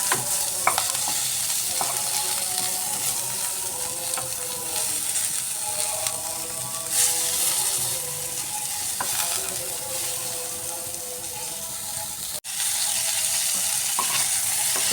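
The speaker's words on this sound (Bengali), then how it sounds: "এভাবে লবণ হলুদ দিয়ে ফুলকপিগুলো একটু ফ্রাই করে নিয়েছি" Cauliflower pieces frying in a pan with salt and turmeric, a loud, steady sizzle with occasional stirring scrapes, close up, ending in an abrupt cut with a brief change in the hiss.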